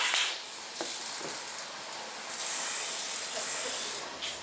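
Water spray from a nozzle rinsing a bleached and dyed cosplay armor piece in a garage, a steady close hissing spray that runs throughout and swells louder partway through.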